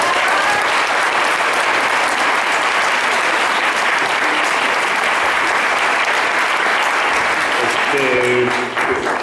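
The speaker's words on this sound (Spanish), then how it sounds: "Un aplauso, por favor." Audience applause at a lecture on democratic transition at the FIL Minería book fair, loud and sustained steady clapping from a large crowd throughout, thinning slightly near the end as a voice begins to speak.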